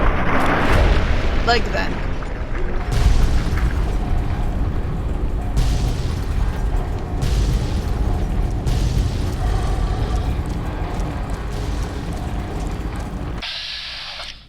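Gunshots in Fallout New Vegas, several sharp booming reports spread across the clip over rumbling game ambience, with someone talking throughout.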